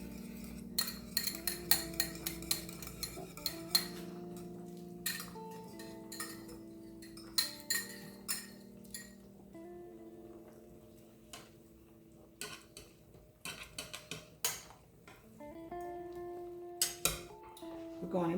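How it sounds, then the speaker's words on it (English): A spoon clinks and taps against a pot while flour is stirred into cooking juice for Jamaican-style brown stew chicken, giving irregular light metallic ticks over a quiet, steady tonal background. "I'm going to stir that up, and this would be our thickening agent."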